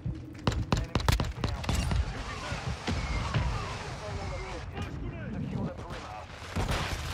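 Mortar rounds striking in a shooter video game, a flurry of sharp booming impacts in the first two seconds followed by dense rumbling gunfire and explosions, with voices talking over the battle.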